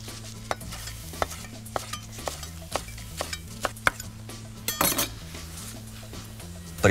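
A kitchen knife coarsely chops fresh herbs with their stems removed, making a quick series of sharp, evenly spaced taps on a board, close and clear over steady background music and a faint sizzle.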